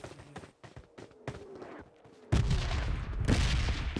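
Gunfire in the PUBG Mobile Lite video game: a run of sharp separate shots gives way to a louder, dense burst of rapid fire near the end, no talking heard.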